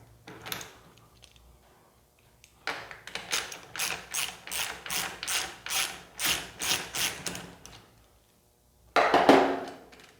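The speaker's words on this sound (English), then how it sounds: "Okay, we remove the nut." A ratchet wrench clicks in quick repeated bursts while loosening a 17 mm wheel nut on a bicycle, with a pause and then a final louder burst of clicking.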